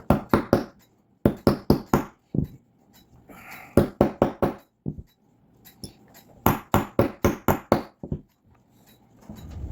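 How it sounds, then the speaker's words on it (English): Groups of sharp, quick hammer taps on a clock spring barrel cap, close and crisp, arriving in short bursts of four or five with brief pauses between. "you'll be able to take a hammer and tap the cap down"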